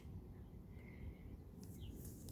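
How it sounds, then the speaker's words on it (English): Birds chirp faintly outdoors, with one thin trill and a brief high call standing out over a steady background hum of ambience. "I'm outside so you guys can hear the ambience in the background of the birds."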